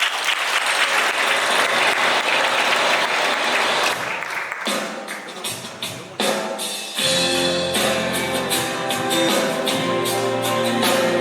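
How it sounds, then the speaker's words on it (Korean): Guests at a wedding ceremony in a convention hall burst into loud, sustained applause, with music starting up partway through and carrying on beneath the clapping. "내빈 여러분의 뜨거운 박수와 함께 바로 영상 시작하겠습니다."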